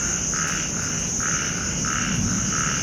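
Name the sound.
loud croaking of small warty frogs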